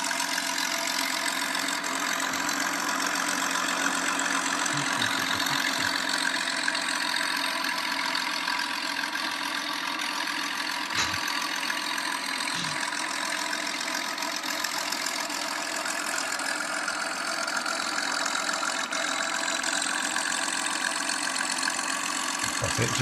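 A model engine warms up at a steady idle, holding a continuous, close, buzzing hum with a faint knocking undertone. A few low thumps sound in the background over more than twenty seconds.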